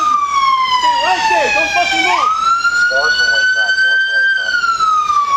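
Police car sirens wail loudly up close, sweeping and steady, while someone shouts over them during a police stop of robbery suspects.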